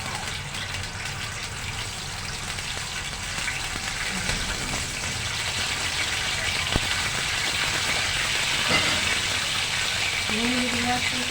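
Potatoes fry in hot oil with a broad, hissing bubble that swells louder as more pieces go in, and a voice is briefly heard near the end.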